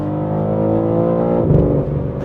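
A 2023 BMW M3 50 Jahre Edition accelerates hard in its most aggressive shift mode, its engine note climbing steadily, then dropping sharply at a quick gear change before pulling again, heard loud from inside the car.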